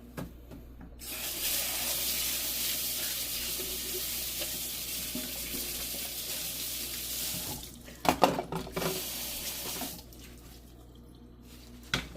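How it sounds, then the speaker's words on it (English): Kitchen sink tap running steadily while soup containers are washed by hand with lemon-scented dish soap, a continuous close hiss of water for several seconds, then stopping amid clatter and splashing before a brief quieter pause. "Now we'll wash one of these soup containers and then we can use the water as it fills up"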